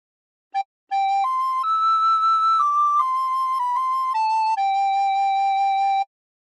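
A recorder plays a phrase of How Great Thou Art as a clean run of sustained, pure notes that step up and down in pitch, each note held, played alone with no voices.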